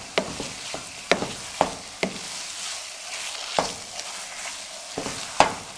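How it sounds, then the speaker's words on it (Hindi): A spoon stirs a sabooni mixture with added cardamom quickly in a pot, giving sharp, regular clinks about twice a second over a soft, steady scraping background, with no talk. "इसमें आप तेज़ी से जल्दी इसमें चम्मच हिलाएं"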